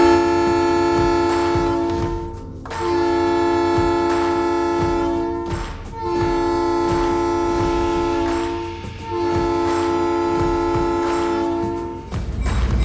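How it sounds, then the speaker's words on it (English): The locomotive horn of Fort Bragg's Skunk Train blows in four long, loud blasts heard from close by, each held for a few seconds with brief gaps between them. "I'm now going to blow the horn to let everyone know."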